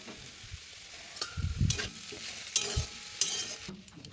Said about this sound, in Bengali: দিয়ে ভালোভাবে এটাকে ভেজে দেবো